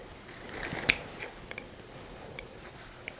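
Fabric shears cut cloth for a pleated kilt-style skirt, with one sharp snip followed by a few faint, scattered clicks and rustles at close range over quiet room tone.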